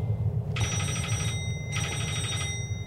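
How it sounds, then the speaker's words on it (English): A telephone rings twice in a horror video game, two bright electronic trills separated by a short gap over a low ambient hum. "Wait, that's the phone?"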